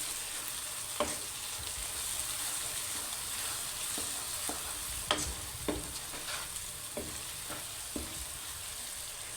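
A spoon stirs green chilies and salt into a potato, egg and onion curry frying in a pan, with a steady sizzle underneath and several sharp scrapes and clinks against the metal at irregular intervals.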